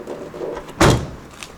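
A single loud thud of a car door shutting on a stock Nissan Skyline R34 GT-R V-spec II with aluminium doors, close by, against a quiet background.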